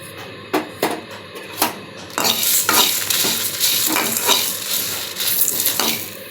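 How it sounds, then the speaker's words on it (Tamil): Cumin, pepper, rice, fenugreek and dried red chillies dry-roasting in a pan, stirred with sharp scraping clatters over a steady crackling sizzle, close and fairly loud. "இது எல்லாத்தையும் வடை சட்டியில் போட்டு நல்லா வறுத்தெடுத்துக்கலாங்க."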